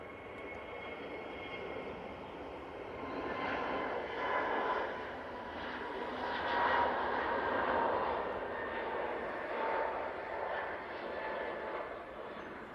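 An Aurigny ATR 72 turboprop airliner comes in to land at Manchester Airport, its engine drone swelling from a distance into a louder midsection and then easing slightly, with a faint propeller hum. No voices.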